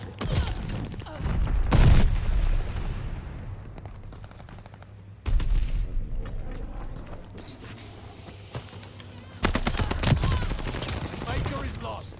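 Explosions from a called-in bombing run boom through a Call of Duty Vanguard match on the NZ-41, with loud bursts of rapid gunfire, a heavy blast near two seconds and more impacts around five and ten seconds.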